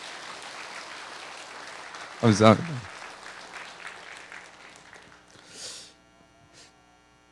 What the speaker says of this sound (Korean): 우리 목사님 내려가시는데 한번 축복의 박수를 한번 부탁합니다